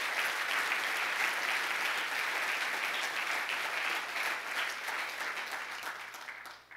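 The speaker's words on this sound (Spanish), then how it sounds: "Dele fuerte el aplauso al Señor." A church congregation applauds strongly during a sermon, a broad, continuous roll of many hands clapping that holds steady for several seconds before tapering off at the end.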